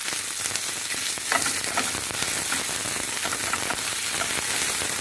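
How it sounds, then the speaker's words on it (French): Beef meatballs sizzle in a pan as tomato paste goes in, a steady close frying hiss with occasional brief scraping and spattering bursts, continuous and without speech. "je vais verser le concentré de tomate dans la poêle où on cuit les boulettes"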